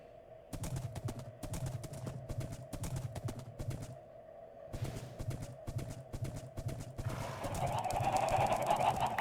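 Hooves clip-clop in quick, regular bursts as a Minecraft horse moves, with short pauses between runs and a brighter rush of noise near the end, fairly close and alone.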